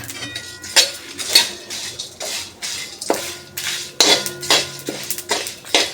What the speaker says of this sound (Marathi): वाटीमध्ये जे होते ते गरम मसाले सगळे आपण भाजतो आहे